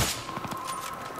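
A quick burst of automatic gunfire rattles off in Battlefield 3. It is a brief run of rapid shots over a steady in-game hum, with no talk during the burst.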